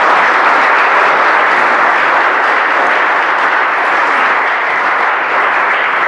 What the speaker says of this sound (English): you can totally clap for that.